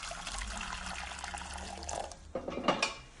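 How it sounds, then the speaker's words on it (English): Three-quarters of a litre of boiling water pours into a pan for pea and pesto soup, a steady liquid rush at moderate level, ending with a few clinks of a pot. "I start off with 3/4 of a litre of boiling water."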